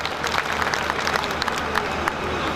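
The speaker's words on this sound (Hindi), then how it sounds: "एक बार जोरदार तालियां।" Steady crowd applause at a Hindi comedy poetry gathering (hasya kavi sammelan) in Behror, dense clapping filling the whole moment at moderate loudness with a faint low hum underneath.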